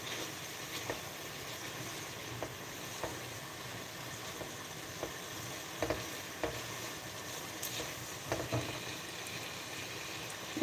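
Bihon gisado stir-fried in a pan, the noodles giving a steady soft sizzle and hiss with occasional scrape and stir knocks, moderately quiet and continuous with no talking.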